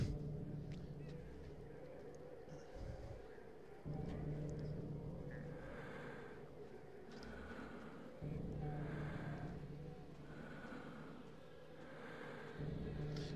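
Convoy car in Hitman 2: Silent Assassin rolling along, a steady low engine rumble with periodic swells and dips in level, continuous throughout with no talk.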